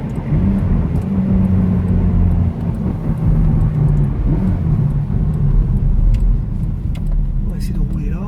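Ferrari F430 on the Le Vigeant circuit, a loud, close engine roar that rises and falls with gear changes and acceleration, with someone talking over it.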